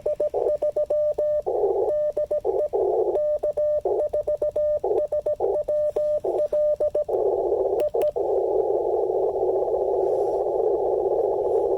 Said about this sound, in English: the QRM has gotten loud, hasn't it?